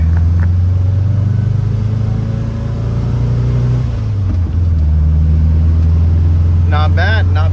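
A 1967 VW Type 3 with a freshly upgraded distributor accelerates, its engine drone rising in pitch, dipping briefly around a gear change, then climbing again, heard from inside the car, with a short burst of chirping near the end.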